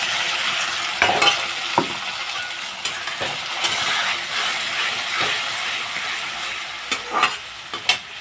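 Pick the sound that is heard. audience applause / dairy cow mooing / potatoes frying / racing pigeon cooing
potatoes frying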